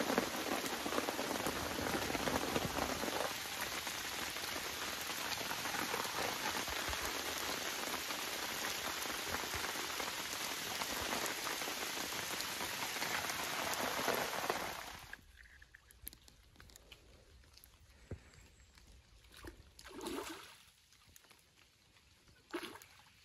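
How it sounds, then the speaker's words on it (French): Steady rain falls on a quarry lake during a carp fishing trip, a dense, loud hiss of drops on water and surfaces that suddenly drops off to quiet, scattered patters and occasional splashes. "C'est un temps idéal, un peu de pluie"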